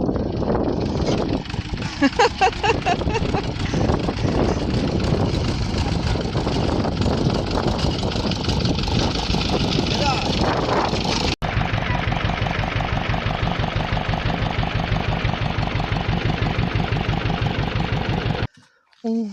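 A car engine droning steadily during a drive to the forest, a continuous loud hum and rattle under occasional talking, cutting off briefly near the end.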